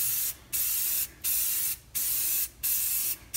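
Spray paint goes onto MDF inside a cardboard spray booth in four short hissing bursts of about half a second each, separated by brief pauses, close and steady with no talk.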